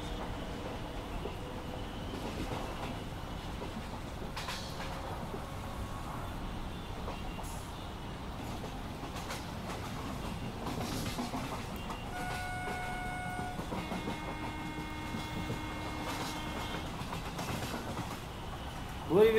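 The Flying Rani Express with LHB coaches rolls past, a continuous rumbling rush of wheels with faint rhythmic clatter and some tonal horn or brake notes, heard from a moderate distance with a brief louder burst at the end.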